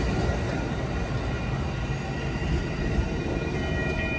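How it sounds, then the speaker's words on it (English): An Amtrak Coast Starlight passenger train's sleeper cars roll past nearby in Oakland, California, with a steady, loud rumble and clatter of wheels on track, constant throughout with no voices. "Here are the sleeper cars coming up."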